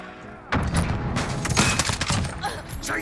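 Rapid bursts of CR-56 AMAX rifle fire in Modern Warfare, loud and close, with cracks and booms piling into a dense fusillade after a quiet start, under voices talking.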